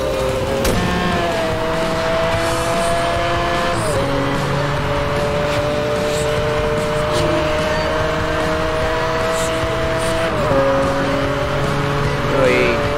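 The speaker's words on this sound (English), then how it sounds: "away we go in the Zonda." Pagani Zonda Cinque Roadster driven at speed in Need for Speed Hot Pursuit, a loud continuous engine whine holding steady pitch with abrupt drops at gear shifts, under a dense game soundscape.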